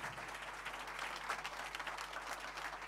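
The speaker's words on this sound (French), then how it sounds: "On peut les applaudir, ils ont fait un bout de chemin." Faint, distant applause from an audience at an awards ceremony for an inclusion challenge, a soft continuous patter of clapping lasting about three seconds over a low hum.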